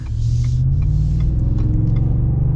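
A Ford F-150 Black Widow's supercharged 5.0L Coyote V8 rumbles steadily and loudly, its deep tone rising slightly as it revs up, with no voices.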